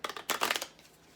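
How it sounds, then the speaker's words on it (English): Tarot card deck shuffled by hand, a short burst of crisp papery riffling and flicks up close, alone with no talk. "I'm gonna sit here and shuffle the deck."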